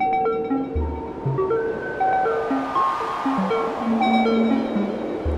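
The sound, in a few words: white noise wave from VCV Rack synthesizer patch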